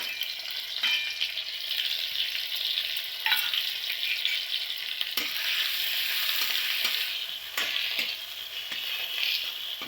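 Tomato, green chilli and ginger frying in hot oil for potato curry, a continuous close sizzle with occasional stirring scrapes.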